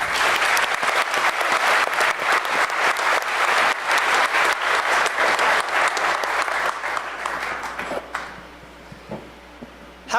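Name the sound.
conference audience applauding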